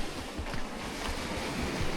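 Waves wash steadily onto a beach at Cala de Illa Roja on the Costa Brava, a continuous rushing surf with some wind noise and no talk.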